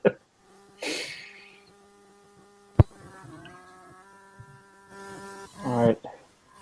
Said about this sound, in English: Who's got a bee in their microphone?